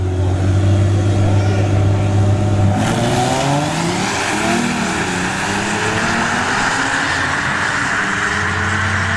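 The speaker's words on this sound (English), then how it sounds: "we got the Genesis G70 left lane and the Tacoma work truck in the right lane" A Genesis G70 and a Tacoma work truck launch side by side at a drag strip, loud engines roaring and climbing through gears continuously, with a sharp surge partway as revs rise and shift.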